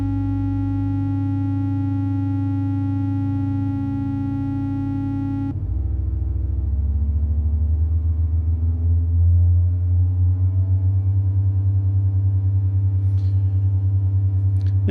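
Analog synthesizer oscillators drifting into tune with one another: a steady buzzy tone with stacked harmonics that shifts midway, settling into a beating, wavering drone that stays moderately loud throughout.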